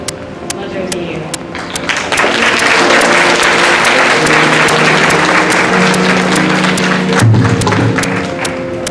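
Loud, sustained applause from an audience at an NAACP Mother of the Year event, with regular sharp claps standing out over the dense crowd clapping and a voice speaking over it near the end.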